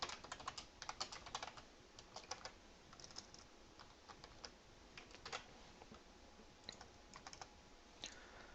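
Someone types C++ Qt code on a computer keyboard with quick, irregular bursts of soft clicks that are faint and close, with no voice.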